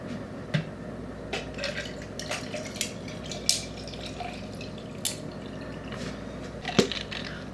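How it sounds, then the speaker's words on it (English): Homemade lemonade pours into a cup filled with ice, making a steady liquid trickle with scattered clinks and drips as the ice shifts, close and fairly quiet with no talking. "Now we're gonna pour the lemonade in."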